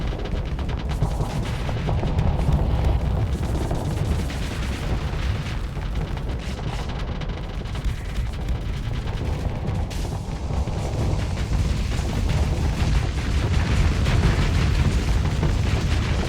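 Torpedo explosions and heavy weapons fire in a Starsector space battle, a dense, continuous roar of booms and blasts that rumbles loudly without letup.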